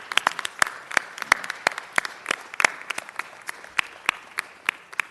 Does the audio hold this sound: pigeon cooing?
no